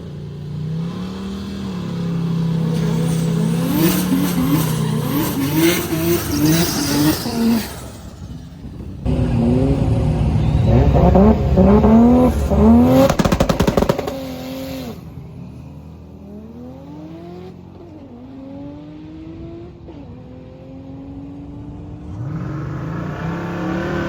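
A drag race car roars down the track at Drag Week, loud engine revving hard through gear changes with rising and falling pitch, then easing off into quieter engine running near the end.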